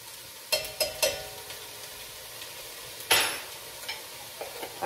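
Minced garlic goes into a pot of chopped onions, with a few sharp stirring clacks and a brief burst of sizzling over a quiet background sizzle.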